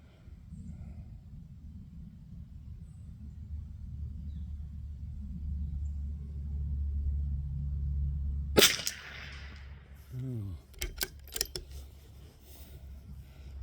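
One sharp crack of a Tikka T1X .22LR rimfire rifle on a bench rest, preceded by a low steady rumble and followed by brief clicks and metallic handling sounds.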